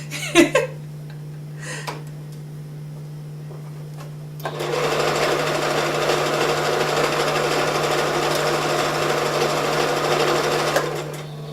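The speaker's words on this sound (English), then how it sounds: "So we're going to sew each one together all the way." A sewing machine stitches pillow fabric. A few faint clicks and handling noises come first, then the motor starts around the middle and runs in a steady, fast, close mechanical whir over a constant low hum until the end.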